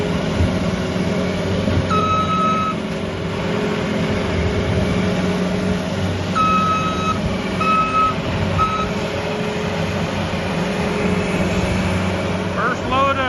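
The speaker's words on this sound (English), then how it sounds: "First load of manure in our new spreader. First scoop." A loader works on a farm, scooping manure into a new Kuhn Knight SLC 126 spreader. Heavy diesel engine rumble runs steadily throughout, with intermittent reversing beeps and a person talking over the machinery.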